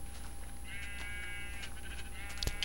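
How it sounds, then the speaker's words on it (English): Sheep in the video game Minecraft bleat in a couple of wavering, nasal calls over a steady low hum of game background noise, fairly faint. "So many sheep."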